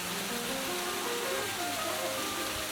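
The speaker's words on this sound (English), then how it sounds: "And show you the waterfall" Steady broadband rush of falling water at Bonita Waterfall on a hiking trail, continuous and fairly loud, with faint voices and tonal sounds mixed in.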